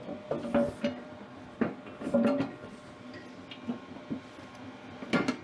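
Plastic cover being fitted back onto an Ariens snow blower during servicing, a series of light clacks, taps and rattles spaced irregularly, quiet and close.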